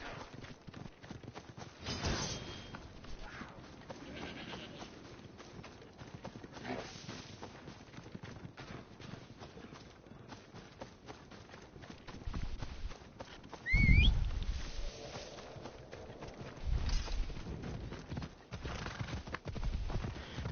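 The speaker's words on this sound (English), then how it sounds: "if you're running and you stay running when you call the horse, it'll just come pick you up automatically" A horse gallops in Assassin's Creed Odyssey, steady clip-clop hoofbeats running through the clip at moderate loudness, with a whinny and a louder burst near the middle and no talk.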